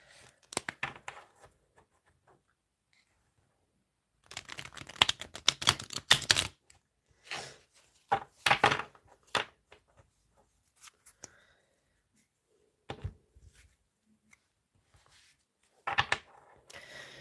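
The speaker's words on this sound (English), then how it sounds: "give the cards a shuffle." Crisp bursts of riffling and flicking as tarot cards are shuffled, several separate rounds with quiet pauses between, close and fairly soft.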